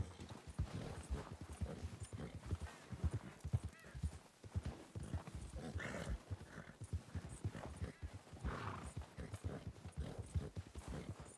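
Steady clip-clop of horse hooves on a trail in Red Dead Redemption 2, the rhythm running continuously and up close through the whole stretch, with a brief whinny and game ambience around it.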